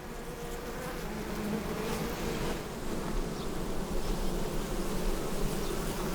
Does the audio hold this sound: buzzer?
no